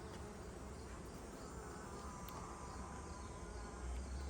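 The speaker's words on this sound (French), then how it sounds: "Il y a des abeilles, on dit, qui essaient de sortir" Honey bees buzzing steadily around an open hive frame with many emptied cells, a dense, continuous close drone with no talk.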